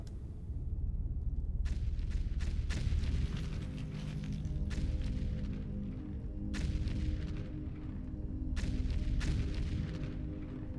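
A sci-fi orbital laser in the factory-building game Foundry fires in repeated booming blasts, a loud rumbling low-end roar that swells and falls in bursts over the whole stretch, with sharp cracks and no speech.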